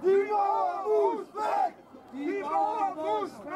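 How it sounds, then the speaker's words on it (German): Football spectators at a Bremen-Liga amateur match voicing displeasure at the wall during a free kick, a crowd of shouting, chant-like voices rising and falling in several waves with a brief sharp burst midway. "Die Zuschauer nicht einverstanden mit der Mauer."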